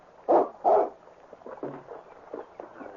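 A dog in an old-time radio drama set on the Yukon gives two loud, close barks, followed by softer yips and whimpers.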